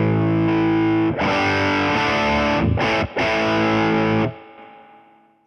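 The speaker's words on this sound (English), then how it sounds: "I think it's a boost circuit, and it sounds a bit like this." An electric guitar runs through a Rivera boutique amp with its boost circuit engaged. It plays a loud, thick, distorted chord that sustains with a couple of brief breaks, then rings out and fades.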